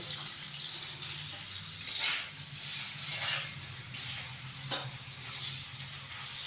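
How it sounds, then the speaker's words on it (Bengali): Paneer frying lightly in a pan, with a steady close sizzle and hiss running throughout and a few brief louder crackles or stirring scrapes. "প্রথমে পনিরটা হালকাভাবে একটু ভেজে নেব"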